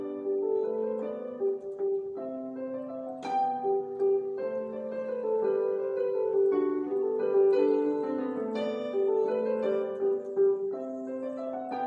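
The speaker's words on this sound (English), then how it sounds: "Let me play a music kind of piece for you to hear how the keyboard is being used in making music." An electronic keyboard plays a melodic music piece with sustained chords and a moving melody line, continuous and clear for about twelve seconds with no talking.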